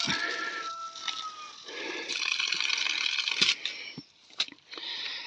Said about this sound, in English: It's always good to flush the pipes out because you can see it's not quite clear.